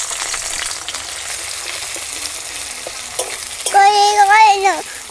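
Chopped onions sizzle steadily in a hot pan for a Bengali fish curry, a continuous close frying hiss, with a brief wavering whistle-like tone rising over it near the end.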